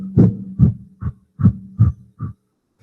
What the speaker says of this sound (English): It's called Kalabati breathing.